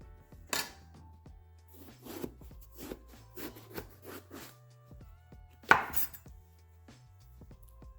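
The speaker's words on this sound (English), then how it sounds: "we're going to cut this into chunks" A knife chops eggplant into chunks on a cutting board, with a run of evenly spaced close knocks followed by a sharper louder strike and a few softer taps, with no voices.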